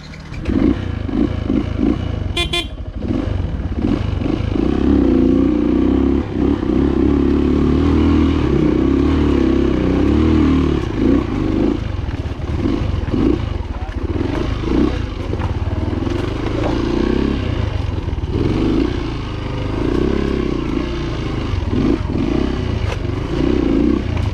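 Rieju enduro motorcycle ridden through landslide-damaged hills, its engine revving and labouring in bursts over rough ground, with clattering and scraping from the bike and terrain.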